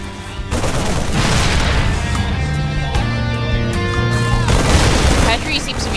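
StarCraft II battle with siege tanks firing: repeated heavy booms and blasts amid game music and effects, loud and sustained, partly under a commentator's voice.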